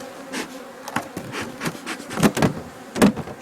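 Honeybees hum close by at an open hive that is not very populous while a super is being added, a steady buzzing drone broken by several soft knocks.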